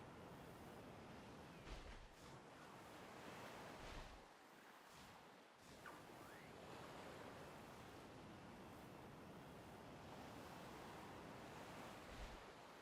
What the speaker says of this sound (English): It's just the sound of the waves, which is quite relaxing